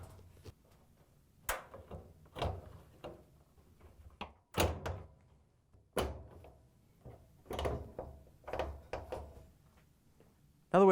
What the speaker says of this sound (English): then we can put the bulkhead in place and lock the tabs into the cabinet